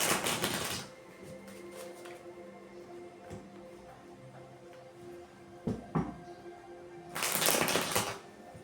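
Tarot cards riffled and shuffled close up in two loud, fluttering bursts at the start and end, with quieter taps and slides of cards being drawn and laid down in between.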